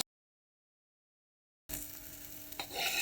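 Vegetables for a Kerala-style thoran stirred in a frying pan: silence at first, then a steady close sizzle with scraping stir strokes for the last second and a half, no talking.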